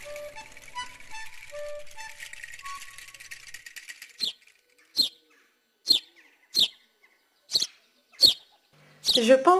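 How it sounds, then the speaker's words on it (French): A house sparrow gives a series of short, sharp chirps spaced about a second apart, close and clear against a quiet background, following music, in the Côtes d'Armor. "C'est bien sûr le moineau domestique."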